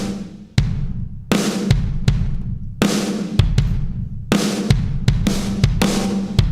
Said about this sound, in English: That's the sound of compression.